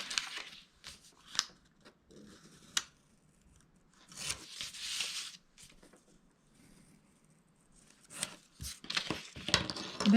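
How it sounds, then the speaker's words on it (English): Scissors snip paper edges for a miter fold in a paper craft project, with sharp individual cuts spaced irregularly and quick rustling, close and quiet against near silence. "I am going to come in and just cut at the edges just like that"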